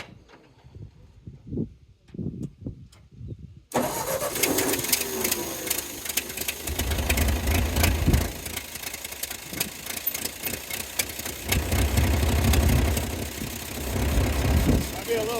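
A Ford tractor engine on a small hill is quiet at first, with faint voices, then cranks and catches, settling into a loud, steady, rumbling idle that pulses in heavy waves.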